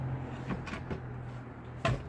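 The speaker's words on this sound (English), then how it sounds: "in these rear cupboards there's a couple of drawers. I'll show them you." A small drawer in the rear storage cupboard of a Swift Carrera 184 caravan slides open quietly, with a few soft scrapes and a final click in a hushed interior.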